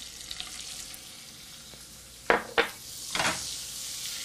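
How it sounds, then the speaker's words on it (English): Olive oil and butter sizzle in a hot pan for turkey meatballs, a steady frying hiss broken by a few sharp utensil clinks and scrapes near the end. "the bubbling means that the oil is hot enough"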